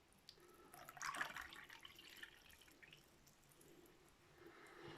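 Soft trickling and fizzing of sparkling mineral water poured into yogurt and oil, faint and close, with a brief gentle splash early on and quiet bubbling afterward.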